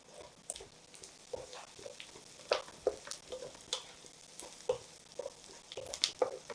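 Onions and chicken fry in a pan for Penka-style chicken fry. A faint, steady sizzle runs throughout, broken by irregular scrapes and clinks of stirring.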